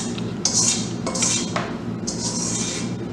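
Metal spoon scrapes and clinks against a pan while stirring a sugar snack, a few bright separated strikes and scrapes over quiet cooking background.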